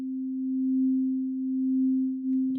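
A steady, pure synth tone from the Vital synth holds one pitch while an LFO slowly swells and dips its volume, ending with a faint rustle.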